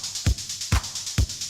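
Modular synthesizer with the compressor switched off, three evenly spaced punchy kick-like thumps with a bright sustained tone over a hissy bed, no talking.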